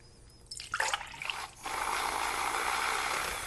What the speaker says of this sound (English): I could froth the oat milk too.